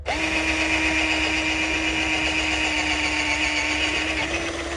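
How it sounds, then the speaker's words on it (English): A power drill drilling out a pop rivet whines steadily at high speed, close and loud, grinding continuously for several seconds with a slight change in pitch near the end. "just take my drill, put the drill bit on the head of the pop rivet"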